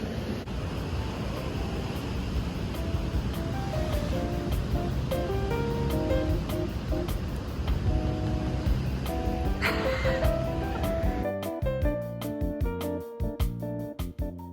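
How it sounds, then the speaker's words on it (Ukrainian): Ocean waves break along the Atlantic coast at Porto, Portugal, in a steady, close roar of surf that fills the whole stretch, with the texture shifting near the end. "Прийшов, сидиш, дивишся на море, океан точніше."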